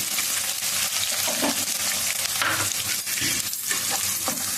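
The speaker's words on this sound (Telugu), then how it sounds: "చక్కగా కొంచెం ఎర్రగా వేగనివ్వాలి" Green chillies and onions frying in oil in a pan while being stirred, with a steady, close crackling sizzle and occasional scraping movements and no voices.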